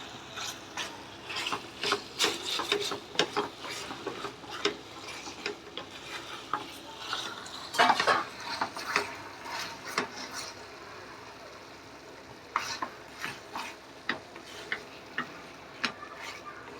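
Previously fried chicken being tossed and stirred in a pan for dragon chicken, with scattered clicking and scraping strokes of a utensil, moderately close and irregular, with no talk.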